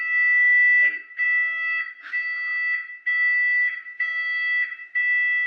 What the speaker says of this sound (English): Is the smoke alarm off?